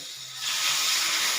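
Tempering (popu) sizzling for a buttermilk vegetable dish, a sharp steady hiss of hot oil that swells up suddenly and keeps sizzling loudly and close.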